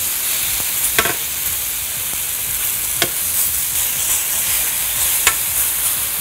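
Figs caramelize in a pan with a steady, even sizzle, broken now and then by sharp scraping clicks as a utensil stirs them, with no talking.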